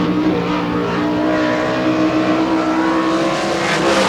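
A sprint car on a dirt oval at the All Star Circuit of Champions Spring Nationals in Hartford, Ohio, its engine roaring steadily at high revs through a lap, loud and continuous with no speech over it.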